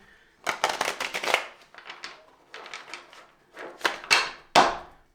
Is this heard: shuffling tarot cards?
yes